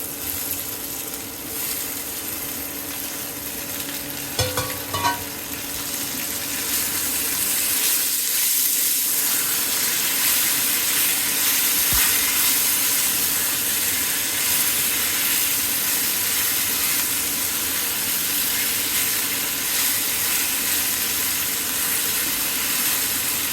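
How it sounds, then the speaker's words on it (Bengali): Fried eggplant and potato tipped into a pan of onion and garlic browning in oil, followed by a steady, loud sizzle and hiss of frying that continues without speech. "এখন আমি এর ভিতরে দিয়ে দিব ভেজে রাখা বেগুন আলু"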